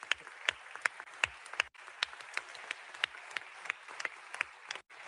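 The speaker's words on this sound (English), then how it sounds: "a very well-deserved round of applause" Sparse clapping at a climate summit, individual claps ringing out unevenly and fairly close rather than as a full ovation, with brief gaps between them.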